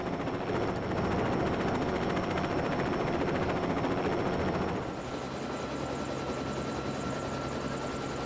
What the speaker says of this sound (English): another large-scale helicopter. This is Swooper